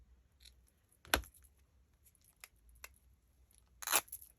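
Material is torn by hand at a craft work table, with a few sharp, dry ripping bursts separated by quiet pauses, the last one longer and fuller.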